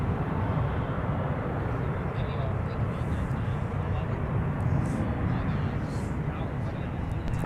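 A Delta airliner arriving from Cancun on runway 35 at MSP airport gives off a broad, steady roar of jet engine noise, fairly near and constant, while a voice talks over it.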